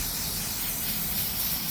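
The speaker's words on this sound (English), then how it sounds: "It does say to spray those sides, meaning the carpet as well as this." A spray can hisses onto plywood and carpet in a continuous, fairly soft airy spray that holds steady for the whole moment, with no talk over it.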